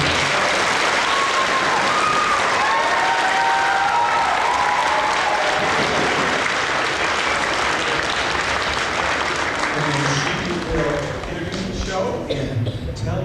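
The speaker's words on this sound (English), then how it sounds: "give Mrs. Epley a big Gator round of applause for everything she's done" Loud, sustained applause fills an elementary school drumming program for Mrs. Epley, dense and close, thinning slightly toward the end as a voice begins speaking.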